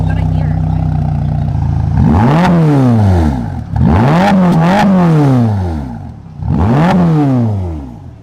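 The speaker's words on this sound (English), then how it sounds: "Still sounds like a Ferrari." A Ferrari Roma engine starts from a low idle and then revs hard three times, each loud rise and fall in pitch close by, with the last rev following a short pause.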